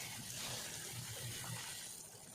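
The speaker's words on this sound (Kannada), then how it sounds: "ಟೊಮಾಟೊ ಸಾಂಬಾರು ಕುದೀತಾ ಇದೆ, ಸಖತ್ತಾಗಿ ಕುದೀತಾ ಇದೆ." Tomato sambar boils hard in a pot, giving a faint, steady bubbling and hissing wash of liquid noise with no voices.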